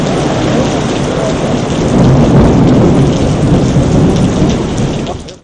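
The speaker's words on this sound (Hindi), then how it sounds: "चक्करगढ़ और गिरदनवा में भी गरज चमक के साथ बारिश हुई।" Loud, steady rainfall pours down with deep rolling thunder swelling in the middle, a dense close wash of drops with no voices.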